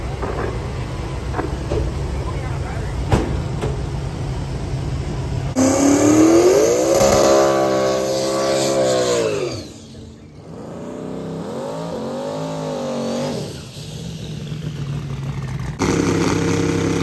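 A Ford Pinto race car engine at Skelton Raceway's small-tire event, a loud close exhaust that revs hard and climbs through gears, drops off briefly, then pulls again, with crowd and track noise around it.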